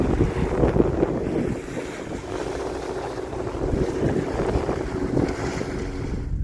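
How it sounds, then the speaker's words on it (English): Strong, gusty wind buffets the microphone on the Lake Michigan shore, a continuous loud roar with low rumbling surges and no voices. "This wind is brutal, but Lake Michigan's just looking lovely today."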